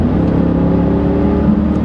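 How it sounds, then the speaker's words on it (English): A Jeep Grand Cherokee SRT-8's powerful V8 roars loudly and steadily under acceleration, a deep, continuous engine note heard from inside the car with no talking. "that's a great V8 noise"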